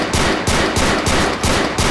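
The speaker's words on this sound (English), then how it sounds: "I hear the gunshots down the road there" Rapid bursts of gunfire crack in GTA IV, loud and close, firing in a fast repeating rhythm of about four strokes a second and heard alone without speech.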